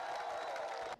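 A large crowd of new army recruits applauding outdoors at Kitona, a dense steady wash of clapping that cuts off abruptly.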